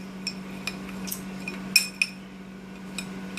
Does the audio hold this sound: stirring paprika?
yes